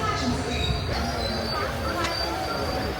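A train pulls into the platform at Kannur railway station, its wheels squealing over a steady, close rumble of carriages, with faint voices in the crowd.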